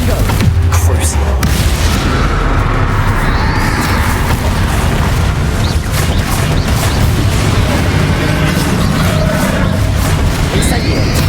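A Confringo blasting spell cast in Hogwarts Legacy sets off a loud, deep booming explosion amid dense, continuous combat noise, with voices talking over it.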